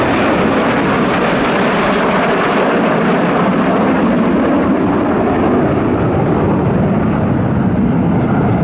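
RAF Red Arrows jets roar loudly and continuously as they turn hard in a display at an air festival, a dense rushing engine noise that holds steady from start to finish.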